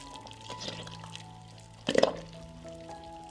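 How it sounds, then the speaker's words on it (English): Peppers dropped into hot boiled dressing to marinate, a quiet wet splash and a brief cluster of liquid plops near the middle, with faint kitchen background before and after. "The dressing has boiled and we put the peppers down to marinate"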